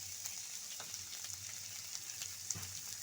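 Cauliflower stems cooking with mustard paste, poppy seed paste and chilli paste in a pan, giving a faint, steady frying sizzle with a few soft stirring scrapes.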